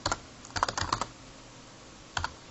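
Short bursts of typing on a computer keyboard, a quick cluster of clicky keystrokes, a pause, then a couple more taps, close and fairly quiet.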